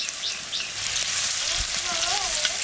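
Onions hitting hot oil already seasoned with black cumin (kalo jeera) and green chillies in a home kitchen, a steady loud sizzle and crackle of frying that runs unbroken throughout, with faint stirring.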